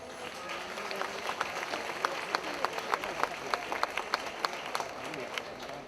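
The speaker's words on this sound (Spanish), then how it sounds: "Vamos a darles un fuerte aplauso." Crowd applause at a San Fermín jota performance in Pamplona, a steady patter of clapping with sharper individual claps standing out, moderately distant and fairly soft.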